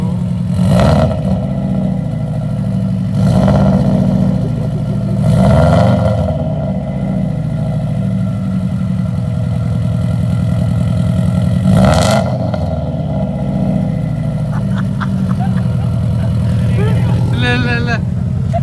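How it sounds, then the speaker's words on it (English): A 2003 Subaru WRX fitted with an aftermarket eBay exhaust runs close and loud, its steady low idle broken by several sharp revs, with people talking over it. "we're gonna start the car. See how it sounds."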